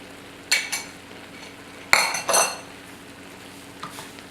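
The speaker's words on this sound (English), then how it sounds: "Just stir that around," Utensil scraping and clinking in a pan while butternut squash flesh and a vegetable filling are stirred together, a few short bursts separated by quiet gaps.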